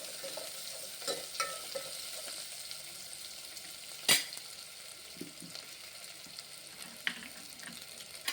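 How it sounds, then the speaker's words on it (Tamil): Small onions (shallots) sauté in a pan for okra kara kuzhambu, giving a steady close sizzle with soft stirring scrapes and one sharp utensil clank partway through. "நல்லா வதங்கணும். சின்ன வெங்காயம் வதங்கினா தான் நல்லா மணமாக இருக்கும் குழம்பு."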